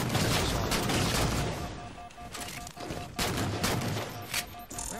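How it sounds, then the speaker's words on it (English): Rapid bursts of video game gunfire from a Halo 4 free-for-all multiplayer match, loud and dense throughout with repeated volleys and brief gaps, while players' voices murmur faintly underneath. "I'm being shot at."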